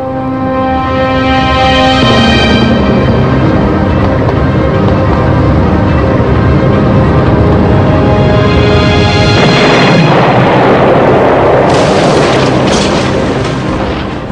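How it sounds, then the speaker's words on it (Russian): A loud, sustained rumbling blast with dense, roaring noise, swelling into a harsh burst near the end, like a massive explosion set against dramatic music; a nuclear reactor explosion at the Chernobyl power plant. "Внезапный взрыв поднимает в воздух крышу реактора весом 1200 тонн."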